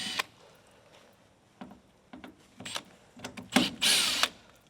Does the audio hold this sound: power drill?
yes